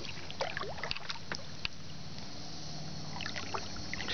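A kayak paddled on Table Rock Lake, going in a circle with one hand, gives soft, close splashes and drips at irregular intervals over a low steady wash of water and light wind.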